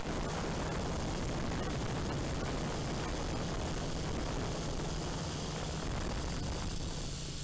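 Feilun FX122 camera drone hovering at roughly half throttle, its propellers producing a steady, loud, close buzzing whir that holds constant throughout without any talk.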